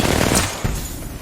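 Rapid automatic gunfire in a shooter video game, loud and dense bursts filling the short moment with a sharp crack near the end.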